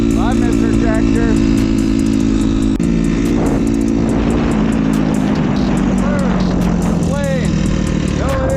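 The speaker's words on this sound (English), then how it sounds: "Plane. No, it's Jerry on his dirt bike." A dirt bike engine drones steadily and loud throughout as it rides past, its pitch slowly shifting, while people talk over it.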